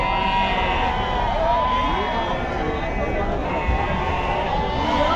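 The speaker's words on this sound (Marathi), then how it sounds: "इकडं मेंढ्या पाहू शकाल मित्रांनो." Dense, continuous crowd din at a large goat and sheep market in Chakan, Maharashtra, with sheep and goats bleating amid the hubbub and people talking throughout.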